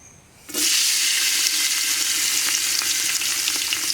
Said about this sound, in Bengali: মশলাগুলো তৈলের সাথে কষে দেব